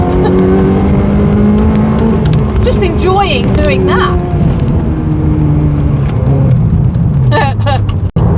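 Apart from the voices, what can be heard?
Ferrari 360 Spider engine revving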